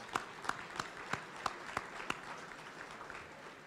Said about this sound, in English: Another round of applause for those guys.